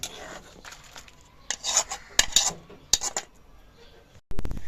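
Boiled pangas fish roe is poured from a pot into a metal sieve, with clattering pot and lid knocks, scraping and rattling metal, and a sharp wet splash of draining near the end.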